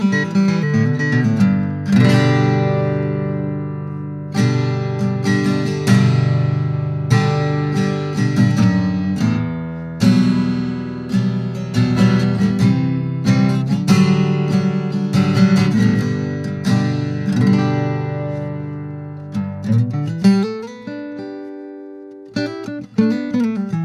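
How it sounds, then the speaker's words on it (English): An unplugged Taylor acoustic guitar with a sapele body, no pickup, delay or reverb, plays a long fingerpicked passage with ringing chords and melodic runs. It sounds close, full and steady, alone without voices, and ends on a few softer notes. "No delay, no reverb, just a guitar and strings."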